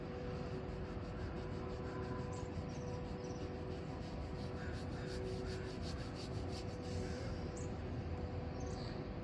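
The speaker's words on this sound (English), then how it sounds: "Rub the sacrum." Hands steadily rubbing the sacrum at the lower back during a morning qigong session, a continuous soft brushing friction that holds an even level for several seconds, with no voices.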